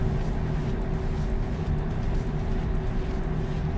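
Truck engine in Euro Truck Simulator 2 gives a steady, loud low rumbling drone that holds unchanged throughout, with no voices.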